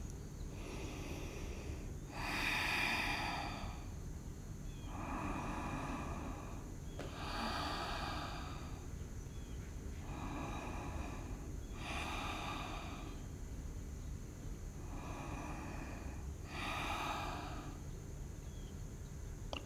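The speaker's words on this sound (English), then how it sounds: "let's all close our eyes and take 5 deep breaths" Slow, deep breaths repeat during a yoga calf stretch, about seven soft airy inhales and exhales evenly spaced, close and quiet against a faint background hum, with no talking.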